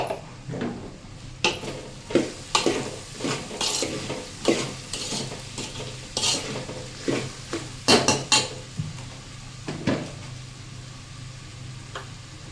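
Bitter gourd stir-fried in a pan for Telangana-style kakarakaya fry, a utensil scraping and clinking against the pan in irregular strokes over a steady, close sizzle.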